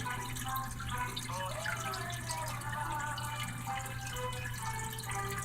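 Steady trickling water runs continuously into a bowl on a pottery wheel, with soft dripping and gurgling at a moderate level and no talking.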